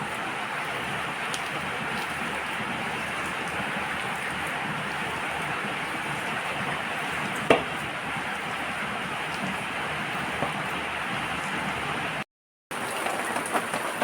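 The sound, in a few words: heavy rain falling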